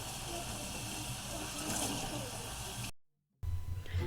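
Running water from a sink tap rinsing loofah gourds: a steady, fairly loud hissing spray that stops briefly, then resumes with some clunking and splashing.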